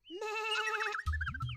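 A sheep in the Little Krishna cartoon lets out one long, wavering bleat up close, followed by a lower, muffled rumble of other sounds; no one speaks.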